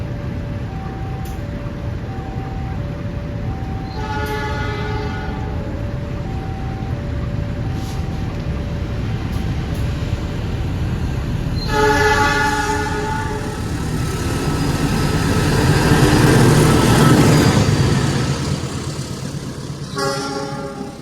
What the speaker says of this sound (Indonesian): Itu dia kereta api Argo Wilisnya udah muncul teman-teman.